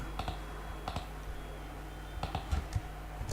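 Typing on a computer keyboard while writing Java code: irregular clusters of light clicks and taps, near and moderately quiet, with short pauses between bursts and no voices.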